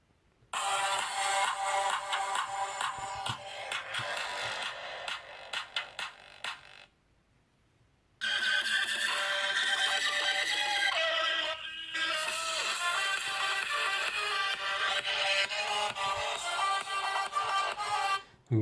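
Music plays at full volume through the loudspeaker of a Vernee X smartphone, sounding thin and bright with a steady beat, cut by a brief silent gap and then resuming.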